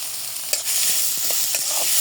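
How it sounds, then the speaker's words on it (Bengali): Onion sizzling loudly in mustard oil in a pan, a continuous close hiss broken by a few scraping stirs of a utensil, with no voices. "পেঁয়াজটা একদম ভালো মতো কিন্তু ভেজে নেব।"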